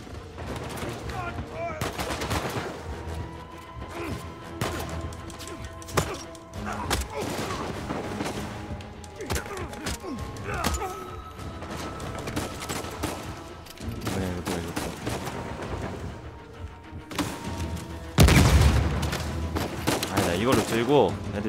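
Repeated bursts of gunfire ring out in the video game Uncharted 4, rapid automatic volleys mixed with single shots and a heavy blast near the end, loud and close over game music.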